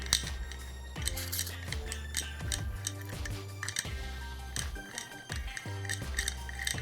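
Dry oil pump from a used 350 engine turned by hand without oil, giving a rhythmic series of scraping, clicking metallic strokes with a low hum beneath, close and steady.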